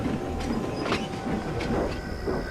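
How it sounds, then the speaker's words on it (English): Henry the steam engine from the Trainz simulation game, pulling away down the line with a steady rolling rumble and recurring clickety-clack of wheels over rail joints, moderately loud and continuous, with no voices. "The guard waved his flag and Henry started off. As he puffed out of sight, Gordon and his crew returned"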